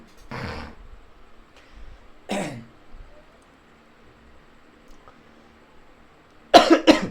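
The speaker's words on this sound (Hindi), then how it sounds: "खांसी आ रही है।" Several coughs from a man teaching a Bihar police general-knowledge quiz: a harsh burst near the start, another a couple of seconds later, and a louder cluster at the end, all close and alone in a quiet room.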